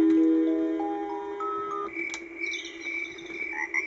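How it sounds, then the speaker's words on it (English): Electronic cricket chirps from the nature sound setting on a Fisher-Price Animal Krackers infant cradle swing, played after a short rising tone sequence, with soft repeated chirping at low volume. "Crickets chirping"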